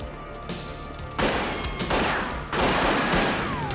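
Rapid gunshots ring out in a tense thriller shootout, a dense fusillade of loud bursts at close range with bursts of fire building in waves and no talk over it.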